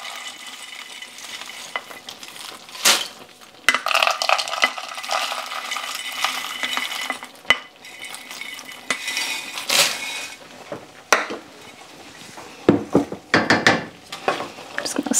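Freeze-dried vegetables, about 1 3/4 cups, being stirred into a pot, giving repeated scraping and clinking of a utensil against metal with scattered knocks, fairly close and steady over a faint background hiss.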